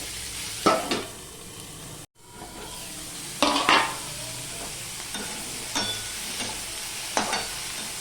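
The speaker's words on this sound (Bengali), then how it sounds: "পেঁয়াজ আলু ভাজা হয়ে যাবে" Onion and potato frying together in a pan for a Bengali fish curry, a constant sizzle broken by several distinct stirring scrapes of a spatula at intervals; no voices.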